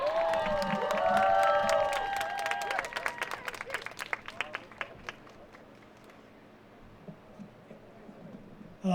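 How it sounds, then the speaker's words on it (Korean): An audience claps and cheers at an outdoor political rally for a presidential candidate's youth pledge announcement at Cheonggye Plaza, Seoul. Loud applause with raised voices opens, then thins into scattered, fading claps. "큰 박수 부탁드립니다"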